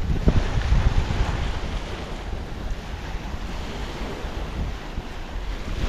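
Wind blows along a seaside shore, a broad, rushing roar buffeting the microphone with surf washing underneath, steady and fairly loud throughout.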